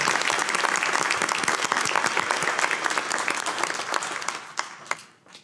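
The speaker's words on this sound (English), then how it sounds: "Please let's give them another round of applause for a job well done." A school board meeting audience gives a round of applause, dense clapping that stays strong and then thins out to a few last claps near the end.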